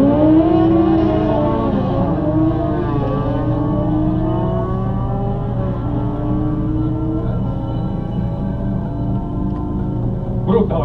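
Honda Integra race car with twin 1.3 Hayabusa motorcycle engines, one front and one rear, and four-wheel drive, screaming loudly and continuously as it climbs through the revs on track, with clear rising engine tones.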